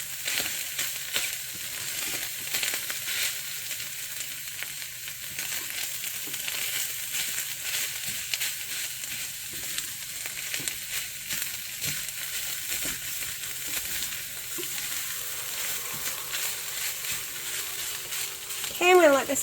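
Ground hamburger meat, home-ground for a keto meal, sizzles steadily in a pan, a continuous close crackle with faint clinks near the end and no talking.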